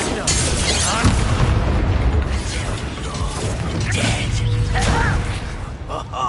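Explosive Confringo spell blasts in Hogwarts Legacy, a dense roar of booms, crashes and mechanical rumble filling the scene with faint voices underneath.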